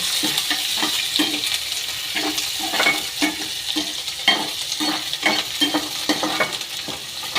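Onions stirred and frying in a shallow wok-style pan for a cluster bean poriyal, giving a steady sizzle with repeated spatula scrapes and stirs at an even rhythm, close and fairly loud, with no talking.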